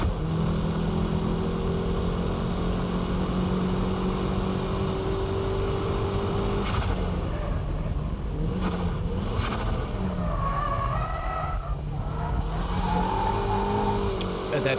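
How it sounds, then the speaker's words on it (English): A car drifts through a corner, braking into the slide then powering out, its engine roaring and revving steadily up close with pitch sweeps and tire noise, with some talking over it. "That corner entry began as a braking drift, but towards the exit I switched to dynamic drifting."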